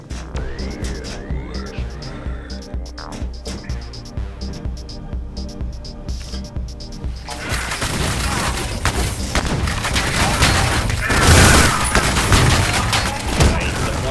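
Rapid gunfire and explosions in the retro shooter Ion Fury, building from quieter game music and effects into a dense, loud barrage of shots and booms over the latter half.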